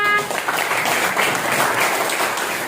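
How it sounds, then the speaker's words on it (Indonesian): Audience applause at an Indonesian teacher-training class session, a dense burst of clapping heard close and loud throughout the short span. "Kasih aplaus untuk mereka."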